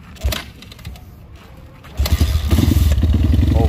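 A Honda CRF 150L trail motorcycle, just back from riding through a river, idles quietly and then bursts into loud, close revving that holds strong to the end.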